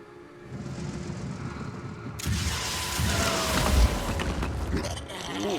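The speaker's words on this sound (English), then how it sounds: "Let's put some more rockets through the ceiling." In the Phoenix Point video game, rockets blast through a ceiling: a sudden loud boom after a quieter rumbling stretch, then a sustained roaring, rumbling wash of debris and noise.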